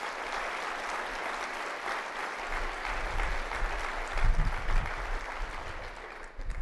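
Audience applause at a university convocation ceremony, a sustained wash of clapping from a large crowd in a big hall, fairly distant, with a few louder bursts near the end.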